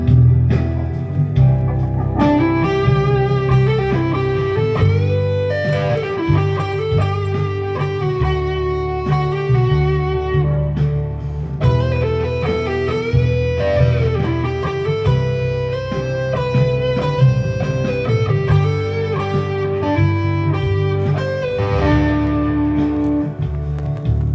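A guitar melody runs from a pentatonic lick into major scale notes over a sustained backing, with single notes moving continuously and loudly for the whole stretch and no talking.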